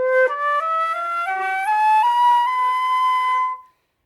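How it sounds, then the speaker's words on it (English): A flute with a weak, wilty tone, suggesting keys rolled too far back or a dropped chin, plays a rising stepwise line of held notes, each with a breathy, slightly unsteady quality, solo and moderately loud. "So sometimes you might hear kind of a wilty sound like this."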